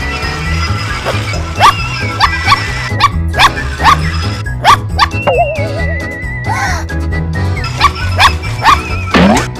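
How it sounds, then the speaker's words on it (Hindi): A dog in a Hindi cartoon cat's birthday scene barks several times over busy background music, with whistle-like tones and sliding effects between the barks. "ये तो कुत्ता है।"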